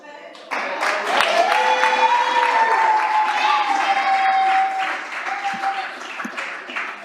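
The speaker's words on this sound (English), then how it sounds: "if y'all gonna clap after every championship, we'll be here all night" Applause from a seated audience at a Springfield city council meeting after a wrestling championship is read out, a steady wash of clapping that holds for several seconds, with whistles or cheers on top and voices mixed in.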